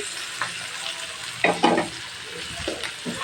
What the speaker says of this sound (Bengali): এখন আমি আলু আর পেঁপেটা দিয়ে দিচ্ছি